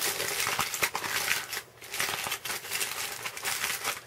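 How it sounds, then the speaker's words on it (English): Aluminium foil is crumpled by hand, folded back and forth like an accordion, giving a close, steady crinkling and crackling with brief pauses and no talk. "basically I'm just crumpling it up kind of like an accordion, kind of folding it up and down, back and forth"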